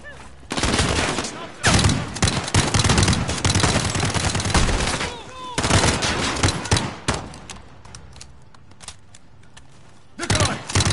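Gunfire in a Call of Duty mission, loud bursts of automatic weapons fire in several volleys with short gaps, a quieter stretch in the middle, then another burst at the end.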